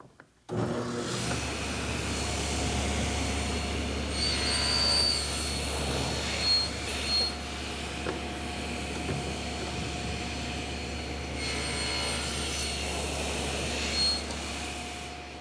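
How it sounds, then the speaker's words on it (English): A table saw with its blade raised half an inch cuts tenon shoulders in wood for a Mission-style sofa. Its motor starts abruptly and then holds a loud, steady whirring drone with faint shifts in pitch as the cuts are made. "I've raised the blade to a 1/2 inch above the table, and now I'm ready to make the shoulder cuts along the edges"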